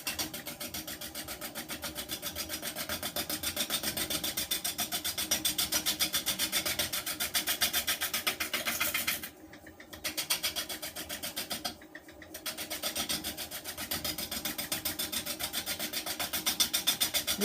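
A carbide-tipped tool turns a wooden bowl on a lathe running at about 500 RPM, producing a steady close scraping rasp with a fine rapid rhythm, broken by two short pauses.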